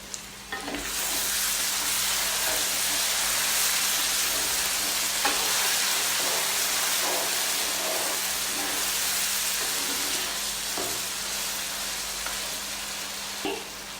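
Pre-cooked, braised beef frying in a pan for bhuna khichuri, a steady loud sizzle lasting throughout with occasional stirring clicks and scrapes, no voices.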